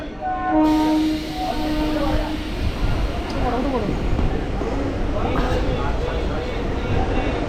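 A train horn blares briefly at the start, then an EMU local electric train from Howrah to Digha rumbles and clatters steadily along the tracks, with a voice talking over it.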